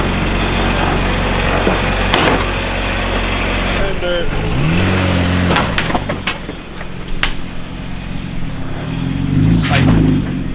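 A K-swapped Nissan Kouki S14 creeps up into a tight enclosed transport trailer, its engine idling and rising in low revs with a few creaks and knocks, close by, while people talk nearby.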